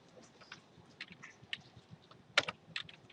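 Scattered, crisp clicks from a computer keyboard as code is typed, a handful of separate keystrokes with one sharper tap near the end, fairly close over a faint background hiss, and no talking.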